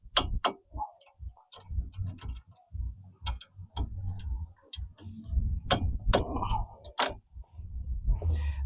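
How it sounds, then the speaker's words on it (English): A torque wrench tightening brake caliper bracket bolts on a Chevy Aveo to 95 Newton meters, heard as a series of sharp, close ratcheting clicks in irregular bursts over quiet workshop background. "Take a torque wrench and torque those bolts to 95 Newton meters."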